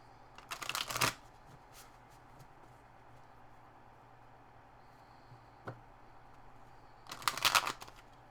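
Two bursts of tarot cards being riffled and shuffled, about a second each, at the start and near the end, with a soft tap between and quiet in between.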